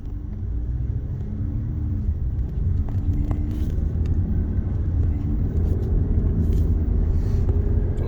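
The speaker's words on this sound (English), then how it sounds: "The rare traffic jam." Car traffic passing on a quiet neighborhood road, a continuous loud low rumble of engines and tires building and carrying on throughout, with no talk.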